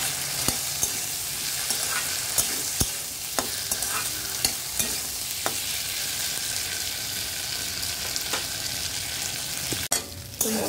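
Spice masala for an egg curry, made without onion or garlic, sautéing in a pan: a continuous loud sizzle punctuated by repeated sharp clicks and scrapes of a spatula stirring, with no talk.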